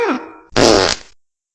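A short squeaky fart followed by a loud, buzzy blast lasting about half a second, close and alone, then silence.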